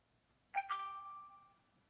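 A Tapo C320WS security camera plays a short two-note chime after connecting to Wi-Fi. The tones are clear and ring out, then fade over about a second in a quiet room.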